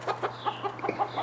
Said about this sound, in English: chicken just went a little crazy